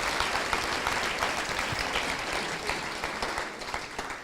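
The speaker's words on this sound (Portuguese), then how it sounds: "Vamos lá, aplauda Jesus aí no seu lugar." A church congregation claps together during a sermon, a dense, steady wash of applause filling the room at moderate loudness for the whole stretch, tapering slightly near the end.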